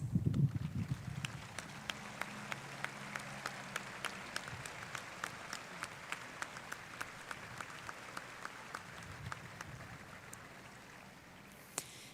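An audience applauds award-winning students at a high school commencement, a soft, distant, sustained patter of clapping with a few sharper claps standing out.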